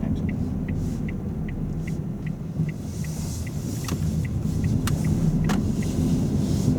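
Inside a moving car turning right at a junction, a steady engine rumble runs under the rhythmic ticking of a turn indicator, with a few sharper clicks along the way.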